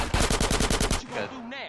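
Rapid burst of AK-47 automatic fire in GTA San Andreas Definitive Edition, about eight loud evenly spaced shots in under a second, followed by a lighter game effect sound.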